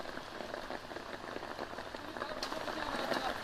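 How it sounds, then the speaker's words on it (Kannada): Heavy evening rain with hail pours over flooded Bengaluru streets, a dense, even hiss of drops that strengthens toward the end, with no voices over it. "ಆಲಿಕಲ್ಲು ಸಹಿತ ಸಂಜೆ ಸುರಿದಂತಹ ಮಳೆಗೆ ಬೆಂಗಳೂರಿನ ರಸ್ತೆಗಳು ತುಂಬಿಕೊಳ್ಳುತ್ತಾ ಇದೆ."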